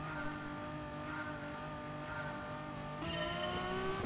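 Several race cars in GT Sport's Gr.4 class roar off the start together, engines droning in layered tones before a louder shift and rising rev near the end as the pack heads toward the first corners.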